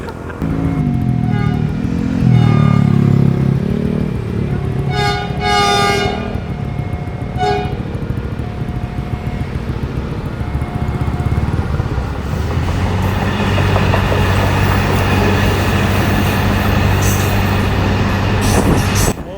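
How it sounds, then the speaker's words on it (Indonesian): A CC 300 diesel locomotive runs beside a road between Bangil and Pasuruan. Its loud horn blasts repeatedly over a steady rumble of engine and wheels, joined by close road and vehicle noise. "kali ini aku sedang balapan dengan lokomotif CC 300 di petak Bangil Pasuruan"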